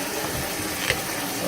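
Steaming hot water pours into a wet tumbler used for cleaning ammunition brass, a continuous rushing splash with a slight surge midway, close and steady throughout.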